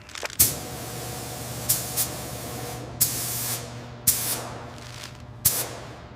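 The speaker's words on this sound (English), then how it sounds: "Sprayer's on, spray starting." Five short bursts of a sprayer hissing at a stadium roof construction site, each a sharp spray lasting under a second, spaced about a second apart over a steady low hum.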